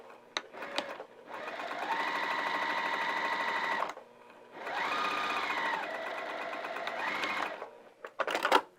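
A sewing machine stitches a heart-shaped fabric potholder in two long whirring bursts with a pause between them, bracketed by short clicks and taps close by.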